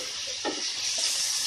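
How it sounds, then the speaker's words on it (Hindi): Vegetables for chicken and vegetable penne pasta fry in a pan, a steady close sizzle running throughout with a brief stirring scrape near the start; no talking. "इसे भी हल्का सा फ्राई कर लेते हैं।"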